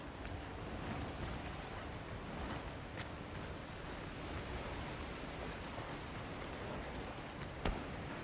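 A heavy downpour in the Monster Hunter Wilds game hisses as dense, broadband rain noise with a wind-like roar. It stays steady and loud throughout, with one brief knock near the end and no talk.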